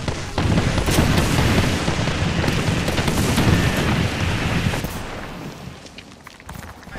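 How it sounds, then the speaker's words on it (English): A grenade explodes in the video game Apex Legends with a heavy, rumbling blast. The crackling, debris-like roar sustains loudly for about five seconds, then fades away. "Grenade incoming."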